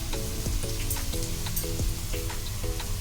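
A veg kabab fries in oil in a pan with a steady close sizzle and crackle, broken by a few soft scrapes and taps as it is turned, with no voices.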